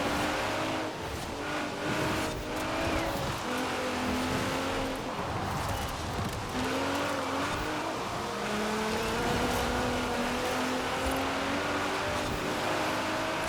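Racing cars in the Forza Horizon 4 video game, engines revving and shifting gears as they brake and slide through corners, with loud continuous engine whine rising and falling in pitch over steady tire and road noise.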